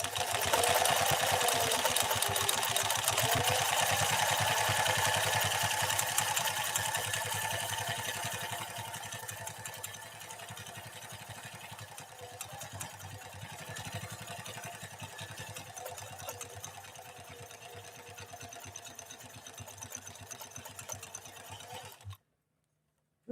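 A Pfaff 332 sewing machine runs a 3-4-1 zigzag pattern stitch in one continuous, steady mechanical whir that loudens early, then softens and stops abruptly near the end.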